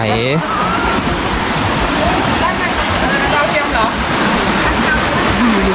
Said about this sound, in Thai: ฝั่งนี้ก็เป็นน้ำใสเหมือนกันไหลลงไป